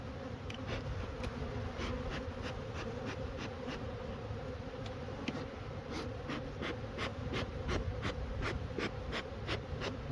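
Dense, steady buzzing of many honeybees up close at a hive, a continuous drone with faint ticks and rustles, no voices.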